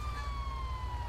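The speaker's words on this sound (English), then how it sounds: "that's probably the ambulance rolling in" An ambulance siren in the GTA 5 video game, a loud sustained electronic wail gliding slowly downward, with a low engine-like rumble steady underneath throughout.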